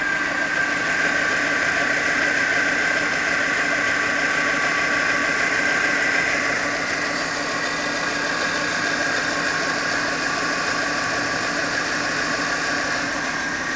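A car engine idles steadily up close, a continuous even rumble with a faint ticking vibration running through it, alone with no talk.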